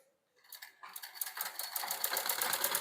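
A sewing machine stitches a collar, starting after a short silence and building into a rapid, steady mechanical clatter heard up close.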